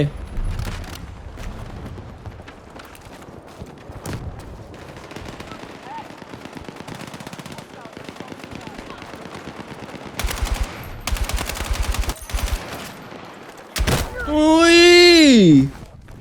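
Gunfire in the video game Battlefield 6 from the NVO-228E gun: repeated bursts of sharp shots and automatic fire, loud and close, with a rising-falling tonal effect near the end and people talking throughout.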